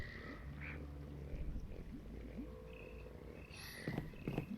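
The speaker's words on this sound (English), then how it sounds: "I think that's just one of those toads, isn't it?" A toad croaks in the SevTech Ages Minecraft modpack. Low, faint, irregular croaks sit within a busy bed of game ambience and scattered chirps, with no voices.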